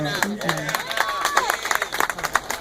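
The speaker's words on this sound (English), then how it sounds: "Clap for her." A crowd at a Sandra Bland march and vigil in Houston, Texas claps in steady bursts for a few seconds, mixed with voices and calls from the gathering.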